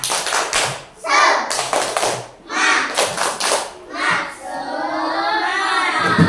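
A class of young schoolchildren doing a rhythmic cheer clap routine, with bursts of clapping and chanting voices alternating in short phrases, close and lively, ending in sustained group chatter.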